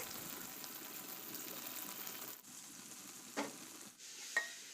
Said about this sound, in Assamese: কাঢ়ি উতলি আহিল